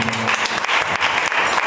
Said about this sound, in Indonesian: sekali lagi berikan tepuk tangan untuk kemuliaan nama Tuhan